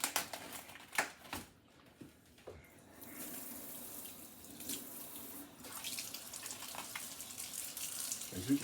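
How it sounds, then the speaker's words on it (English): Tap water runs into a sink as pork chops are washed, a steady hiss of flowing water that swells after a short pause, with occasional splashes and handling noises close by. "We're gonna wash these off."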